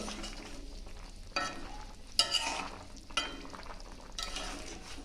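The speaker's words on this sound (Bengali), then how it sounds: "আর দেব একটু গোলমরিচ। গোলমরিচ যদি স্টুতে দেওয়া হয় না, খুব ভালো টেস্ট হয়। একটু নাড়িয়ে দেব।" Chicken stew seasoned with black pepper is stirred in a pot: a steady low sizzle carries a few distinct scraping strokes of the spoon, fairly close, with no talking.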